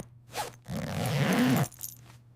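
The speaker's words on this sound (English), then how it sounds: "My zipper is stuck!" A stuck zipper on a soft winter jacket is pulled in one rough, scraping second-long drag, close and fairly loud, with brief fabric rustles just before and after.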